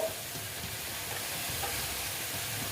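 Spices with turmeric fry and are stirred in a pan for boal fish curry, making a steady, fairly quiet sizzle with low rumbling stir sounds underneath.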